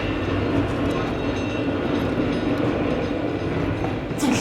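A tram ride rolls on steadily, a loud close rumble with faint rhythmic rail clatter continuing throughout and a brief brighter rattle near the end, with no voices.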